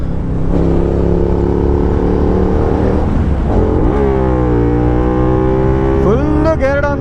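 A Hyosung GT250R sport bike revs and accelerates hard, engine pitch climbing through the gears with rising whines, loud and close, while someone talks over it.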